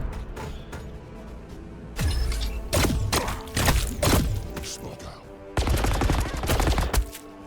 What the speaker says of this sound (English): And here come all the missiles.